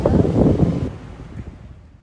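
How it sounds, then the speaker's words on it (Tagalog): Strong wind roars and buffets the microphone outdoors in Surfers Paradise, Australia, loud at first and then easing into a lower rumble. "Napakahangin sa labas"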